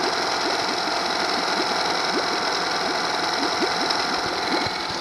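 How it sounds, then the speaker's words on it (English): A Honda 8 horsepower outboard motor fitted with a homemade speed controller idles evenly in the water, a loud, steady mechanical chatter with a fast regular beat, running alone without speech. "the motor is idling very well"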